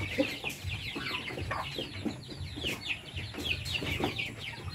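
A flock of chickens clucks steadily and close by, with overlapping calls stacking in uneven bursts over a low background rumble for the whole stretch.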